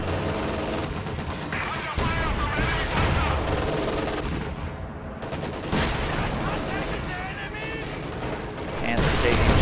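Steady, dense gunfire and machine-gun bursts from a video game tank battle, with a Panther firing at an Easy 8 Sherman from range, dense and continuous throughout, partly under a voice talking.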